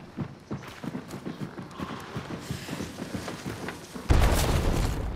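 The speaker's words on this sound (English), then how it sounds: "Tossing a dynamite over there" Dynamite exploding in the video game Bomblance, a sudden loud, sustained blast that follows a run of rhythmic, clip-clopping footsteps.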